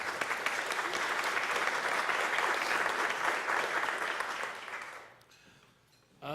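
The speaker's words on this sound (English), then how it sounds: "So give them one more round of applause for them" A round of applause in a meeting room during a monthly AIA meeting, honouring people given special recognition; steady clapping for about five seconds, then quickly fading to near silence before a voice resumes.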